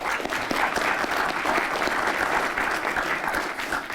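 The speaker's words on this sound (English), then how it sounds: "A round of applause for him," Sustained applause from an audience at a military event fills the whole stretch, loud and steady with dense overlapping claps and no break.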